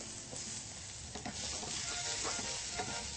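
Steady sizzling of shallots and tomatoes frying in a pan, close and continuous, with occasional stirring scrapes and no talking.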